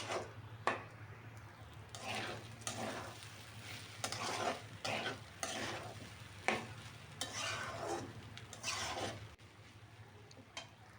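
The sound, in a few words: frying rice in oil for beef biryani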